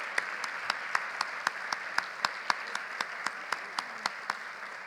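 Audience at an annual business conference applauding the event team, a sustained rattle of crowd clapping with several sharp, close hand claps standing out in a regular rhythm.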